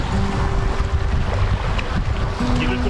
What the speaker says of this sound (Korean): 낙엽을 쓸어 물길을 열어주니 한겨울에 시원한 계곡 소리가 들립니다